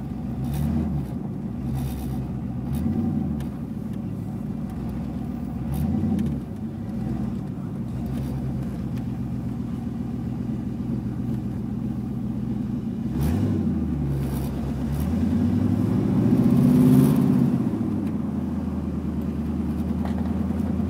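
A 1987 Ford Mustang GT runs and drives on a cold day: a loud, steady engine rumble close by, with a few swelling revs and gear changes throughout.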